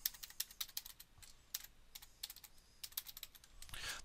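Password typed on a computer keyboard, a quick series of crisp close keystrokes in irregular bursts, quiet overall, with no voices.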